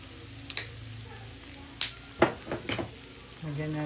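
Pork sisig made from leftover liempo sizzles in a pan while being stirred, with sharp scraping strokes and bursts of frying at a steady moderate level, and a voice talks faintly in the background.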